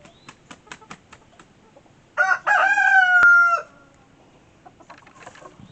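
A rooster from a flock of American Breese chickens kept in an enclosure gives one loud, close crow, with soft clucks and scratching before and after it.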